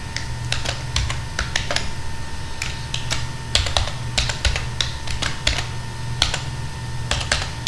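Code typed on a computer keyboard, close and clear, with bursts of quick keystrokes broken by short pauses over a low steady hum.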